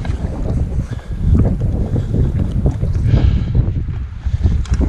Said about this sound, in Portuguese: Vento forte, e por muitas vezes está sendo contra